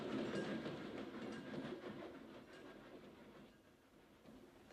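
The Madrid Express, running twenty minutes late, rolls past with a steady rumble and rhythmic clickety-clack of wheels on rail joints, fairly faint and slowly fading, with no voices.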